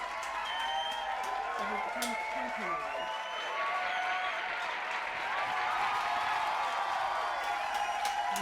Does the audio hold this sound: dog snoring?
no